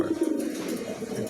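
King pigeons in a moulting state coo in low, soft, rolling calls, close by and continuous through the brief moment.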